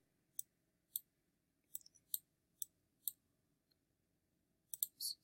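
Mouse clicks in Tableau data visualization software: a series of sharp, isolated clicks, single and in quick pairs, spaced irregularly over a low steady hum, close and crisp, with no talking.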